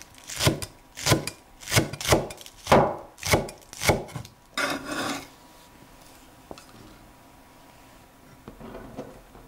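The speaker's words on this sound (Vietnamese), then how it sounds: "Xắt nhỏ thêm một ít hành lá để trộn vào mắm cho thơm ha." Green onions chopped with a knife on a cutting board, close and crisp: about eight evenly paced chops, then near silence with a few faint taps.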